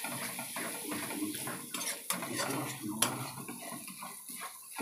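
Onions and prawns stirred in a pan for an egg prawn fry, with a spoon scraping and clinking against the metal in an irregular rhythm, close and moderately loud, over a soft background hum.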